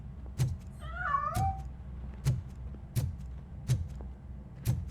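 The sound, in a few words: cat meowing in the video game RoboCop Rogue City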